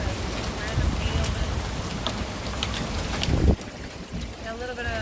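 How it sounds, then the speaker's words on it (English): Snow and hail fall during an outdoor storm, giving a steady wet hiss with scattered small ticks and crackles that drop off near the end. "Yeah, a little bit of hail on there."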